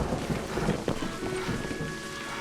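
Steady rain and a low thunder rumble sound in the Scottish highlands of the video game A Highland Song, a continuous moderate wash of noise with a brief crack near the start, no speech.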